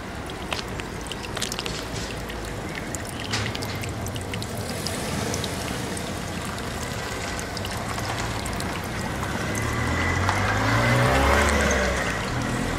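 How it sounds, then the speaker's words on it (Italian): Water gushes from a broken underground pipe in a continuous, rushing trickle and pour, steady and fairly loud outdoors, with occasional faint background noises. "qui abbiamo un'altra falla, altra fuoriuscita di acqua"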